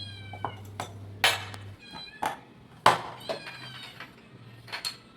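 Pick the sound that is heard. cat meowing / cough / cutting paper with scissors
cat meowing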